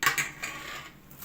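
A metal cooking pot clinks and scrapes close by as it is handled in a kitchen, two quick metallic knocks followed by a faint ringing clatter.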